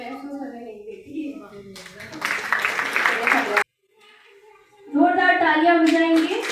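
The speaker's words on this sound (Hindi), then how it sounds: "जोरदार तालियां बजाएं।" An audience at a community event for the International Day for the Elimination of Violence Against Women claps in two bursts of dense applause, with a voice speaking before and after.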